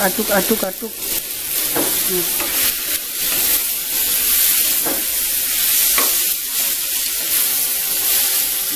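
Pumpkin sizzling steadily in a hot pan while being stirred, with a few scraping stir sounds near the start, then an even, close frying hiss throughout.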